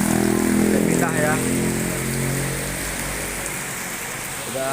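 Heavy rain pours down in Indonesia as a broad, constant roar; a rumbling engine, like a passing motorcycle, is prominent at first and then fades beneath the downpour.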